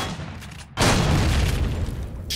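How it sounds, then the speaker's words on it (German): A double gun turret fires in the space-survival game Empyrion: a sudden heavy boom after a quieter moment, followed by a sustained loud rumbling blast that carries on to the end. "Doppeltes Geschütz."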